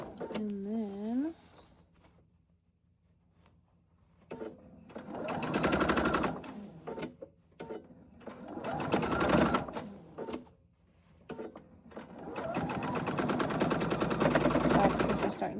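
A sewing machine runs in three separate bursts, starting and stopping as it sews back stitches on a tie. The bursts are fairly loud and close, with quiet gaps between them and some faint talk early on.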